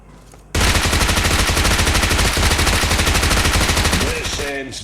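Rapid automatic gunfire from PUBG Mobile erupts after a brief pause and rattles on loud and continuous for several seconds, with a spoken voice emerging as it tapers off.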